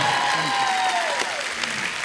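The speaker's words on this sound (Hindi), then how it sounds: "एक बार उस्ताद अमजद अली खान साहब, अमान अली और अयान अली के लिए जोरदार तालियां।" An audience claps loudly for Ustad Amjad Ali Khan and his sons on a TV comedy show set, with the steady wash of applause going on throughout and a voice over it.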